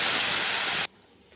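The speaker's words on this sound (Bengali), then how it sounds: "মাছটা ভেজে নিই।" Fish drops into hot oil in a pan and sets off a loud, dense sizzling hiss that stops abruptly partway through and leaves only faint background noise.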